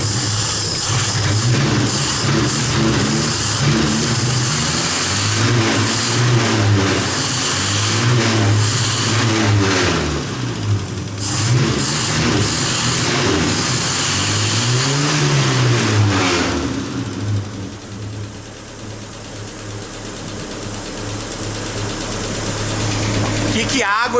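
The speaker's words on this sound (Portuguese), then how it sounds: "Vou fazer o carburador funcionar." A Chevrolet Opala engine revs hard and repeatedly after carburetor work, rising and falling in loud, close bursts over a steady idle, with people talking in the background.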